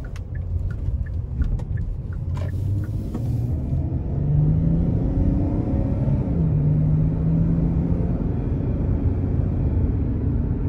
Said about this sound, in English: So surprisingly good acceleration coming out of the parking lot, even in comfort mode